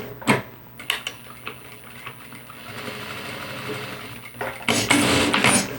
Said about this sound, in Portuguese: vou na máquina, vou passar uma costura e vou deixar um espaço aqui, sem costurar